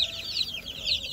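Many chicks peep continuously up close in a plastic brooder under a heat lamp, high thin cheeps overlapping in quick repeated bursts over a low background hum.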